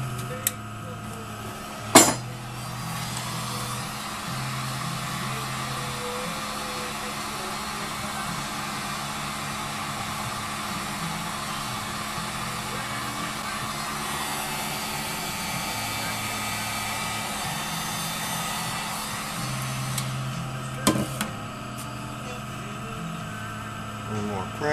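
A heat blower runs steadily, loosening glued magnets on a hard-drive motor, a constant broadband whoosh under a low tonal hum with a couple of sharp clicks, while people talk quietly over it.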